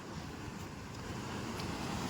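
Sea surf rolling onto the shore near the Ratneshwar Mahadev temple on the Gujarat coast, a steady broadband wash of waves mixed with wind buffeting the microphone, continuous and fairly soft with no voices.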